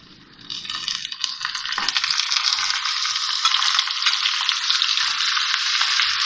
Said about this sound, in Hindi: ये कीमा डाल रही हूँ इसमें।